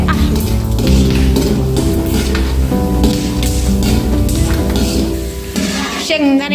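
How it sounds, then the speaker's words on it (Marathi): Peanuts dry-roasting in a pan rattle and scrape in a continuous, close, loud stream as they are stirred, with a brief clink near the end. "शेंगदाणे कच्चे नाही राहिले पाहिजे, त्याकरता 1-2 मिनिटं शेंगदाणे भाजून घ्यायचे।"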